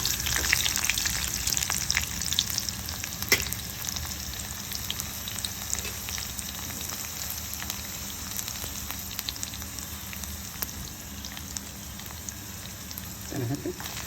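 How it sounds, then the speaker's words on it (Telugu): Mustard and other tempering seeds with garlic fry in hot oil, giving a steady close crackle and sizzle with scattered pops throughout. "పోపు గింజలు చిట్టుపట్లాడాక 4 వెల్లిపాయలు, వెల్లుల్లి తినని వాళ్ళు కొంచెం అల్లం ముక్క కూడా వేసుకోవచ్చు."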